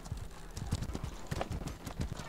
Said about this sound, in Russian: Вот, кстати, лошадь.